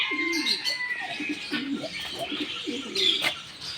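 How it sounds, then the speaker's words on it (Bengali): Crested pigeons at a farm house coo in repeated low, rolling phrases, with a few higher chirps and light background noise, no talking. "ও কি সুন্দর সুন্দর পায়রা"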